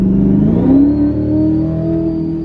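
A Chevrolet Corvette C8 engine with a ProCharger centrifugal supercharger revs up with a rising whine and steady mechanical rumble, loud and close.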